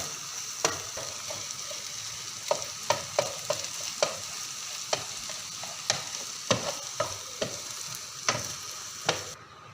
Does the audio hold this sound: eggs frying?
yes